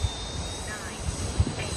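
An E-flite Habu STS RTF radio-controlled electric jet spools up for takeoff, giving a steady airy whir with a faint high whine over broad wind-like noise, rising slightly near the end.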